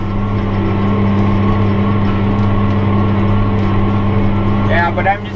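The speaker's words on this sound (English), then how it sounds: "I learned my lesson with this tractor that it's pretty loud" A steady, loud tractor engine drones while driving a field ahead of a storm, holding a constant low rumble with no breaks, and a brief higher squeal rises near the end.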